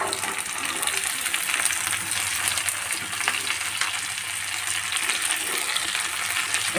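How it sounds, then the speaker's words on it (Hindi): Vegetables (peas, carrot, broccoli, mushroom) sizzling in hot oil with browned onions and green chillies, a bright, continuous crackling fry close by with occasional stirring clinks. "अब मैं सब्जी को ऐड करती हूँ।"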